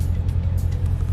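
A 2015 Corvette Z06 with a 7-speed manual idles or cruises on a dealership test drive, a low steady engine rumble heard briefly and close, with no talk.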